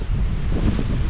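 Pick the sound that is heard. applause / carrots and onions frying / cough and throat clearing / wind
wind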